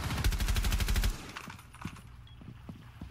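Rapid automatic gunfire from a Rainbow Six Siege match, a dense loud burst for about a second, then scattered single shots and quieter game sounds.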